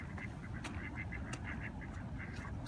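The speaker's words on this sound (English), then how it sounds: "Hey, you pesky seagulls!" Seagulls call repeatedly nearby, a rapid series of short, harsh squawks overlapping one another above a constant low rumble of background noise.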